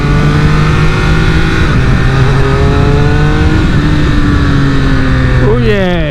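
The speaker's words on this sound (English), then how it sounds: "That triple induction noise is just wow" A triple-cylinder motorcycle engine drones steadily with rising harmonic tones and induction noise, then revs sharply near the end; speech-like activity mixes in underneath.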